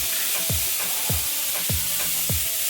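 Jerk burgers sizzling on a smoky grill, a steady hiss of cooking with a few soft knocks at regular intervals, close and continuous throughout.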